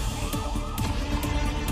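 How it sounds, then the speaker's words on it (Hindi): A police car siren wails in the background, its rising and falling tone sweeping repeatedly over a noisy mix with low rumbling, fairly loud and continuous throughout. "बैकग्राउंड में पुलिस की गाड़ी का सायरन"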